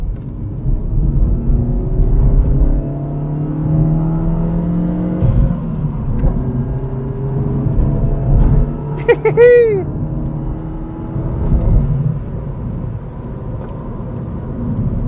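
A Chrysler PT Cruiser engine pulls and revs steadily, its droning pitch rising and falling, loud and close throughout with a brief whistling sweep partway through.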